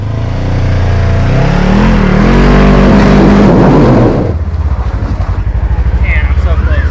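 A Polaris Ranger Crew Highlifter climbing a very steep dirt wall, its engine droning loud and rising in pitch under strain, then dropping to a lower, pulsing labor near the top.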